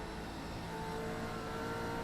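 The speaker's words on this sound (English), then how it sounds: "you can just hear easing onto the gas pedal, trying not to light the rears up" A KSR Gen 3 race car engine at Phillip Island on an icy track holds a steady, even drone as the driver eases gently onto the throttle, heard from inside the car over continuous broadband road and wind noise.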